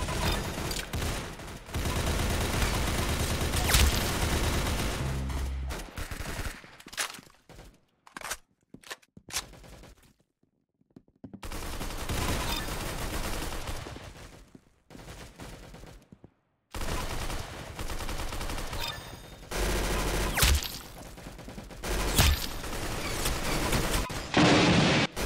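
Roblox video game gunfire crackles in dense automatic bursts, with a quiet gap in the middle and then more rapid firing that continues to the end.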